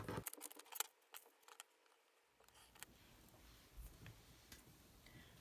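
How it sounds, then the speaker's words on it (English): Scissors cut pieces of paper by hand: a quick run of close, crisp snips, then quieter scattered clicks and rustles over faint room noise. "I'm gonna cut it down first manually, my pieces of paper"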